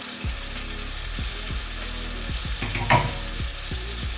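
Tomato added to a spicy Andhra-style crab curry frying in a pan makes a steady, close sizzle, with scattered scraping and knocking from a spoon.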